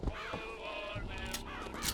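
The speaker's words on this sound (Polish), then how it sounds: "Czemu to są kruki?" Ravens in BioShock Infinite give a few harsh, rasping caws in quick succession, fairly loud and close, over a steady background din.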